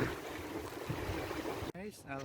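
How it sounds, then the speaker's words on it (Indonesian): Wind at sea during night fishing from a bagan fishing platform blows in a steady, broad rush, and a voice cuts in briefly near the end. "Kalian bisa dengar suara, hanya suara angin ya."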